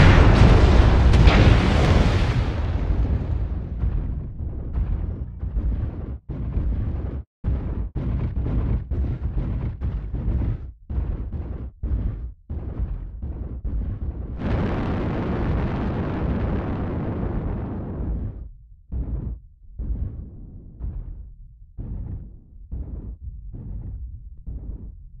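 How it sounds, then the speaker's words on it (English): Artillery strike explosions in a video game: an opening heavy blast followed by a rapid series of booming impacts with short gaps, loud and close. "Artillery strike activated."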